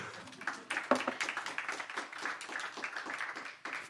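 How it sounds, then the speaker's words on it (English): Scattered audience applause in a lecture hall at an academic talk on education in Russia, a few dozen hands clapping at moderate distance in a loose, uneven patter that thins and then briefly swells near the end. "Thanks for the applause as well."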